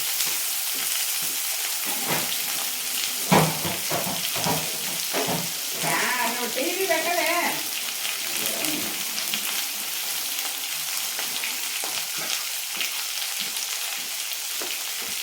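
Thinly sliced ivy gourd (tindora) frying in an iron pan, a constant close hiss and crackle broken by sharp bursts of spatter and scraping stirs, with no talk.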